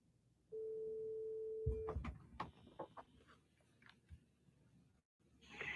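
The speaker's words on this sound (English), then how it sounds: "Phone is ringing." An electronic telephone ring sounds during a call as a single steady tone lasting over a second, followed by handling clatter, clicks and faint background noise.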